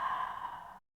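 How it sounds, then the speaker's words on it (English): A single soft, breathy exhale during a Pilates exercise, close and brief, fading out cleanly into silence. "inhale, exhale, one more, exhale"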